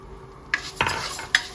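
Coriander seeds roasting in a little oil in a pan make a soft, low sizzle, broken by a few sharp metallic scrapes and clinks of a utensil against the pan.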